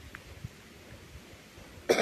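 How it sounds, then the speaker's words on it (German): A single short, loud cough from a girl on an outdoor hobbyhorse ride, bursting out at the very end after a quiet stretch. "Ich hab doch gehustet!"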